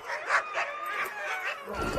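Alaskan husky sled dogs yip and bark excitedly outdoors in polar cold. The calls are high and overlapping, repeating quickly at close range, and a low rumble comes in near the end.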